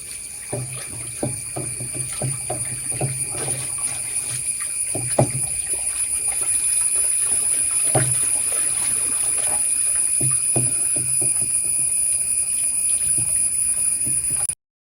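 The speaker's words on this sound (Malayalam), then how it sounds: "കുമ്മായി ഇട്ടത് ലയിപ്പിച്ച് കൊടുക്കുകയാണ് വെള്ളത്തിലേക്ക്" Water sloshing and trickling as lime is stirred into water in a container for Bordeaux mixture, with irregular splashes and a constant high hum in the background.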